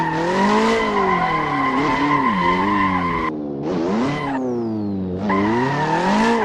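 A 300-horsepower car with limited steering angle drifting in Assetto Corsa, its engine droning and revving in rising and falling harmonics with tire squeal, cutting out briefly twice before resuming, loud and close with no talk.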